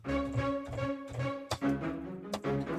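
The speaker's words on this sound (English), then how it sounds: "This one happens to be short string sounds that sound like this." Short, clipped staccato string notes from a sample library play in a quick rhythmic pattern, each bowed stroke cut off sharply, forming a punchy cinematic phrase with no talking.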